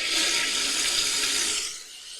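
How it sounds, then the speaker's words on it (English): A toilet flushing, a steady rushing swirl of water that fades toward the end, heard alone without voices. "It's a toilet flushing."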